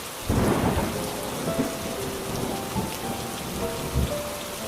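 Steady rain pours down around a leaky jungle hut while thunder rumbles low several times, with a heavy crack near the start and another toward the end, loud and close.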